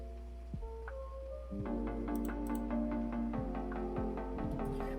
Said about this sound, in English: there's this chopped pluck guitars or pluck